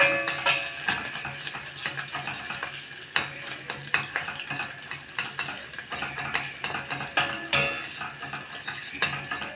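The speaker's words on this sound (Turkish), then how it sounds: "Biraz da salça kavuruyorum." Tomato paste sizzling and frying in a pan at home for pasta, stirred with a utensil that scrapes and clinks against the pan in irregular bursts over a steady crackle, with no talk.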